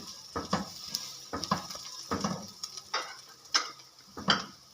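Cumin sizzles and crackles in a hot pan for potato and pea shorba, with repeated scraping stirs every half second or so, close and fairly quiet.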